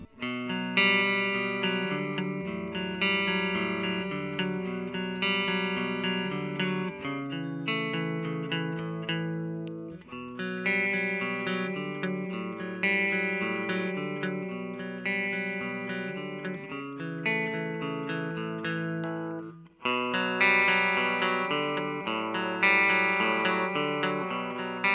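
A Gibson Les Paul electric guitar played through a Marshall JMP1C preamp with distorted tone, sustained chords and riffs ringing out continuously with brief gaps between phrases, loud and alone.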